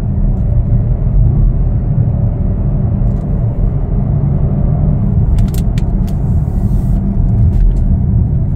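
A 2021 Chevrolet Blazer AWD RS on a test drive gives a steady low road rumble and engine hum from inside the cabin, with a few light jingling clicks near the end.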